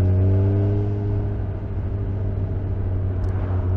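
A 2021 Suzuki Hayabusa motorcycle engine drones steadily at low revs while riding, a deep, even hum with smooth harmonics and constant rushing wind noise, holding one note throughout.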